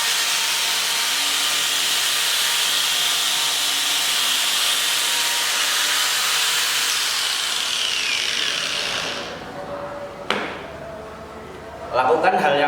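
A wooden board sanded smooth with a power sander, a loud steady hissing whir that cuts off near the end, followed by a sharp knock and some handling noise.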